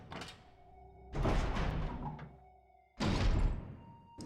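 Heavy double doors open in the Resident Evil HD survival horror game, two deep wooden thunks about two seconds apart, each with a grinding swing, close and clear over a quiet low drone.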